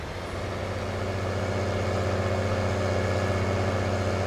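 Tractor engine in Farming Simulator 19, a modded 8-wheel unit of about 1200 hp, droning at a loud, steady idle-like rumble throughout with no pauses.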